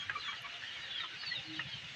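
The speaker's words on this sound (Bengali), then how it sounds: "এটা আমার দেশি মুরগির খামার" Soft, distant clucking of several native chickens on a farm over a steady hiss of background noise, with no talking.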